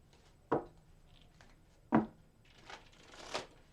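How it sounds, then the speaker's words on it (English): Tarot cards being shuffled by hand, two crisp riffling bursts followed by two softer, brighter shuffles, close and fairly quiet with no talking. "I'm going to shuffle them 3 more times."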